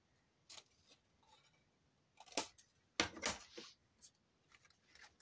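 Scissors bevel the end of a small piece of paper for a mini album craft project, a few quiet, sharp snips and clicks in an irregular rhythm, close up in a still room.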